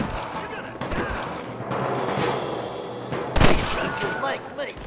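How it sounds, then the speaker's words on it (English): Gunfire in a Red Dead Redemption shootout on PC: a dense, sustained fusillade of shots with a sharper, louder burst near the end, mixed with shouting voices. "Good shooting, boy!"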